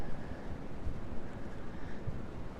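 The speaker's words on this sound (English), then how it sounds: "It's very windy." Steady outdoor wind roars and buffets a microphone in a continuous low rumble with gusting swells, no voices heard.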